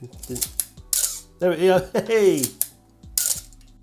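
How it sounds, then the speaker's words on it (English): A Canon AE-1 Program film SLR with a cloth shutter fires in several sharp mechanical clicks and a longer whirring cough, heard close up, with brief spoken words between the actuations. "the camera is not without its famous Canon cough."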